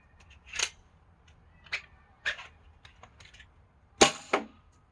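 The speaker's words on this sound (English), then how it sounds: "So we can go ahead and cock it." A MILSIM half dart blaster barreled for ACC2 darts being cocked: a handful of sharp, close mechanical clicks and clacks, ending in a louder snap and a quick follow-up clack, with no talk.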